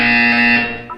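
A single electronic buzzer from the video game Portal 2 sounds, a steady harsh tone lasting under a second before cutting off with a brief blip.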